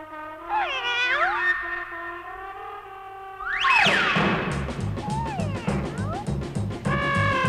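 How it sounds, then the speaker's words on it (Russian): A grey cat in a 1986 animated cartoon meows in several drawn-out, sliding, high-pitched cries, and a burst of busy cartoon music and effects follows. "Может, это серый кот виноват?"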